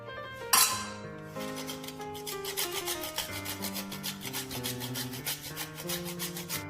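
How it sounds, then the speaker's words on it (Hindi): Nutmeg is rubbed briefly against a grater over a pot of mutton and potato curry, a soft rhythmic rasping close by, faint under a sustained musical background with no speech. "अब हम जो है इसमें जायफल को घिस के डालेंगे।"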